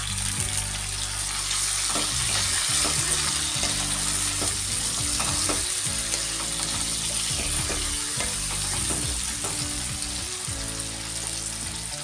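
Tomatoes for a mutton curry fry in a pan with a loud, continuous sizzle broken by stirring clatters, with no voices.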